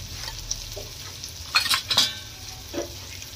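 Chili and turmeric stirred through hot oil, a soft sizzle with a few louder scraping strokes near the middle and a faint clink toward the end, no voices.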